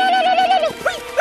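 A horse gives a loud, close whinny, a wavering high neigh that breaks into a few short snorting bursts.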